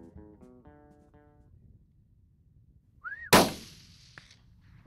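Single rifle shot at a roe buck while hunting in Hungary, one loud sharp crack with a short echoing tail, heard after a few quiet seconds.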